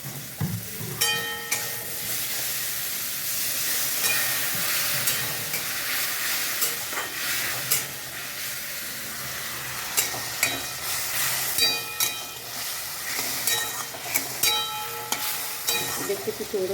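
Food frying and being stirred in a pan during home cooking, with a steady sizzle and repeated scraping and clinking of a utensil against the pan throughout.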